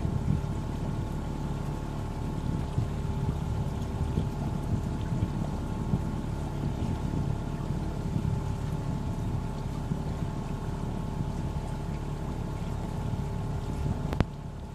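A sailboat under way in the Whitsundays, with a steady broadband rush of wind and water and a faint tonal hum running throughout, continuous and even, with no talk.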